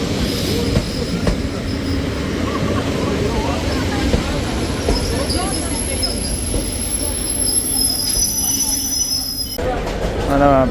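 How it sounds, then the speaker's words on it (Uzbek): Passenger train to Chinorkent running on rails, a loud, continuous rumble with squealing wheels and a high whine, heard close by from on board throughout, with people talking faintly underneath. "Chinorkentga ketguvchi poyezd."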